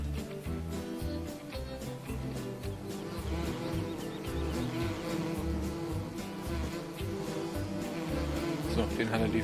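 Bees at beehives in the farming game Landwirtschafts-Simulator 17 produce a steady, dense insect buzz that runs through the whole stretch, layered over a rhythmic low pulse of game background sound.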